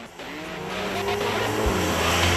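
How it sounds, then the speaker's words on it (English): A Porsche 911 engine drones steadily from inside the moving car, a smooth, even hum with road and tyre noise that swells gradually louder, and no talking over it. "The engine runs smoothly and lets you sense its power, with a bit of a drone."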